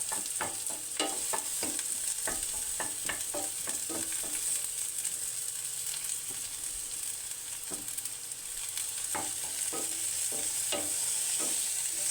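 Garlic fries for squid adobo, a continuous bright sizzle close up, punctuated by repeated scraping clicks of a utensil stirring the pan at an irregular pace.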